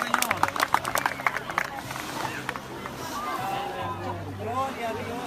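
A congregation at an outdoor baptism applauding, a burst of scattered clapping at the start that gives way to a murmur of voices and speech.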